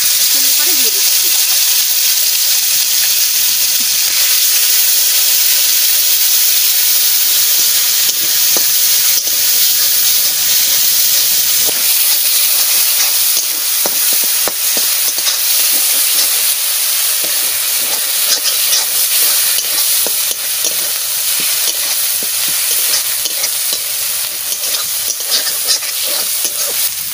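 Bay leaf and cumin seeds fry in hot oil, making a loud, steady, close sizzle that runs unbroken with scattered pops and crackles throughout.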